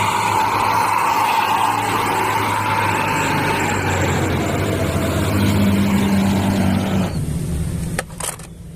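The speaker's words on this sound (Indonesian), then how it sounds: "Widih, lihat, ada mobil truk tangki." A tanker truck engine rumbles loud and close in a steady, continuous drone with a deep low-end throb. Near the end the sound drops slightly and is broken by a couple of sharp clicks.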